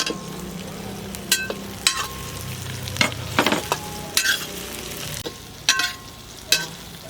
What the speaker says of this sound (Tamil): தக்காளி வதக்கிக்கலாம்